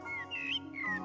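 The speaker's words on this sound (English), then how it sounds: "As soon as I started to listen to this blackbird in close-up" A blackbird perched in an old apple tree sings close to the microphone, a few clear fluting whistled phrases that rise and fall, soft and alone against a quiet background.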